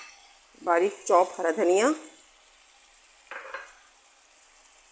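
Bottle gourd sabzi seasoned with black pepper powder is stirred in a pan, giving a soft, steady sizzle and hiss under a woman's nearby speech, then a brief scrape from the pan.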